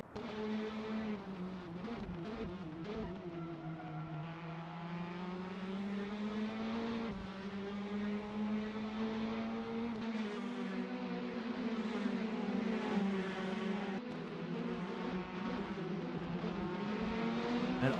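Prototype race cars, one a Porsche, roar through a racing video game at Bahrain at night, a loud sustained engine drone that climbs and falls in pitch through gear shifts.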